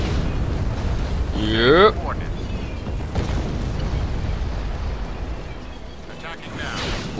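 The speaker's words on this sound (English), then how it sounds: "calling a nice little bombardment on their asses" Artillery bombardment in the video game Imperial Civil War, with a couple of deep booming explosions rumbling under near-constant talk and a short spoken reply.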